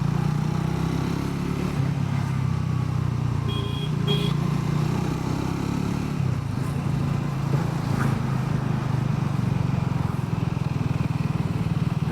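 Triumph 350 motorcycle engine droning steadily while riding, a continuous loud low hum with wind rush throughout, no talking.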